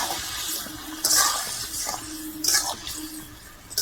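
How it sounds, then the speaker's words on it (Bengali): A pot of vegetable curry boils hard, with a constant watery bubbling that swells into louder gurgling bursts every second or so. "হেভি জোর ফুটছে তো"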